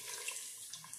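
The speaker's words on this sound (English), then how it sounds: "I'm gonna add a little bit more water to it so it can" Water runs into an Insignia pot holding baby back ribs, a faint, steady pouring and splashing with small bubbly spikes and no talk.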